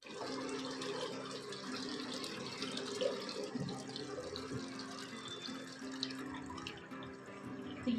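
Water pours steadily into a washing machine drum at home, a faint continuous trickle and splash with small clinks and household noises over it.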